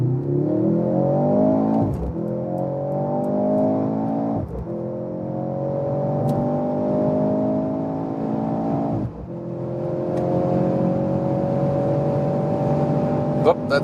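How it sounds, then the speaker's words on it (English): A Mercedes C43 AMG in Sports Plus mode accelerates hard, its engine note climbing steadily through several gears with sharp dips at each upshift, loud and continuous from inside the cabin. "Let's go to the Sports Plus mode and accelerate it out."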